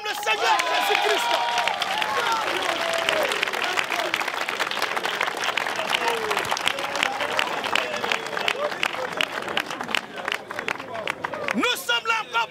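A congregation at a Christian revival gathering in Yopougon applauds and cheers, a dense, loud wash of clapping and shouting that runs steadily throughout with voices mixed in.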